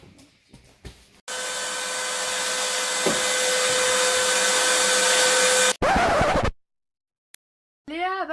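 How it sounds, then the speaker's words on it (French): A vacuum cleaner runs loudly and steadily for about four seconds with a constant whine, then cuts off abruptly, followed by a short burst and silence. "Peux-tu passer l'aspirateur, s'il te plaît?"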